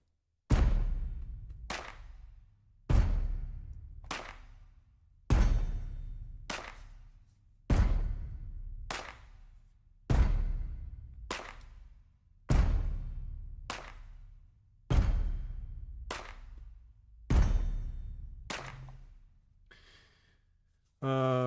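Layered junk percussion samples blended with a Superior Drummer clap kit, playing about nine sharp, punchy hits at an even, slow pulse with decaying tails, loud and close with no talk over them.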